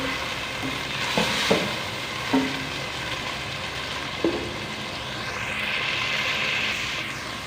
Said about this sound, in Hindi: अब लहसुन अदरक का पेस्ट डालेंगे और 5 से 6 मिनट के लिए भुनाई करेंगे